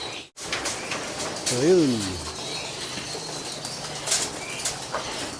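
Racing pigeons flutter into a loft in a quick burst of flapping wings once the gate swings open, with a short cooing call among them, while someone talks close by.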